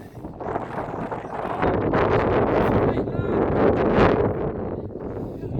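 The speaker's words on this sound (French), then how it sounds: "Toujours du vent." Gusty wind buffets the microphone at an under-20 football match in loud, uneven rumbling bursts, with muffled voices faintly underneath.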